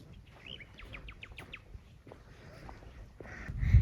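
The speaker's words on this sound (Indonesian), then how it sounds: "Kita ketemu burung lagi guys." Birds chirp on a mountain trail at Gunung Prau, a quick run of short high tweets followed by scattered single calls, fairly faint against a quiet outdoor background with a rustle near the end.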